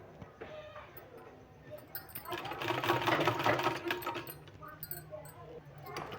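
A sewing machine stitches along folded fabric for a sleeve, a loud steady run peaking mid-clip over a quieter whirring start and finish, with a voice speaking faintly in the background.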